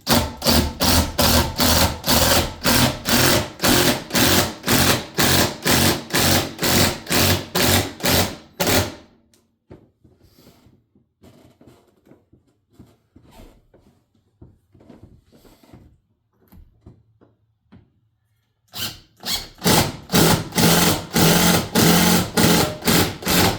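An impact driver hammers GRK 5/16 by 3.5 structural screws into a 4x4 support in a loud, rapid rattling burst. It falls silent for about ten seconds with faint handling noises, then a second hammering burst follows.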